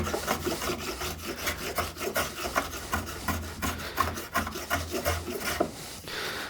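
Rasping and filing along the ends of a small handmade wooden box, levelling and blending the joints, in a steady run of short, close strokes with brief pauses between passes.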